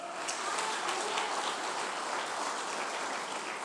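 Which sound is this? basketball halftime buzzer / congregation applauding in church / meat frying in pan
congregation applauding in church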